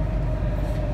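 Rumbling train noise on a metro line near Ibn Battuta Mall in Dubai, a steady low roar throughout without talk.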